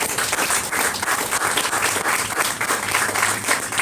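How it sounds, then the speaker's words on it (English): An outdoor crowd at a Fort Lauderdale breast cancer awareness street event applauds, a dense, steady wash of many hands clapping throughout, fairly loud and sustained. "So how about a round of applause and thank you for AutoNation."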